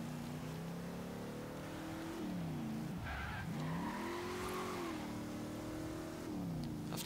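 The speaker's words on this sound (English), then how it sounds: "like a lot of muscle cars, big, loud, not all that high revving" A big, loud muscle car in the Forza Horizon 3 racing game revs with rising and falling engine pitch while its tires skid and squeal, a continuous, moderately loud engine drone throughout.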